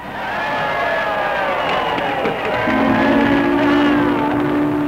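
A vast crowd of about 100,000 people roars steadily at the launch of the 27,000-ton aircraft carrier Shangri-La, a dense continuous cheer with a faint whistle joining partway through.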